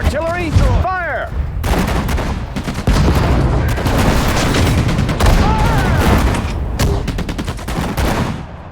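Artillery shells and gunfire rumble through a World War II Battle of the Bulge skirmish in the strategy game Sudden Strike 4: loud, continuous bursts and booms, with a brief voiced command near the start.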